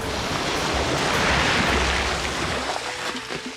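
Ocean waves wash onto a sandy island beach, a loud continuous rush of surf and foam that swells and then eases, with no voices.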